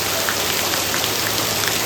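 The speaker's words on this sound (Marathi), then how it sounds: "इकडे पूर्ण खतरनाक पाऊस पडतोय" Heavy monsoon rain in Konkan pouring down in a dense, unbroken hiss of drops hitting surfaces, loud and constant throughout.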